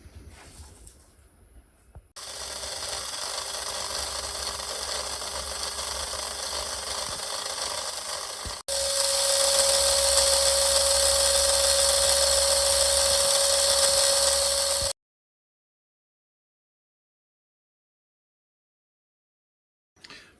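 A small electric slot car motor from a Ferrari 156 F1 SCX model runs in on a test, whirring steadily and close. It steps up to a louder, higher whine midway, then cuts off abruptly into silence.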